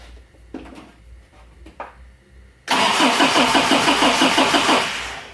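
A Toyota 4x4 pickup engine cranks over without firing: a couple of faint clicks, then a loud, steady rhythmic starter churn that runs for a few seconds without catching.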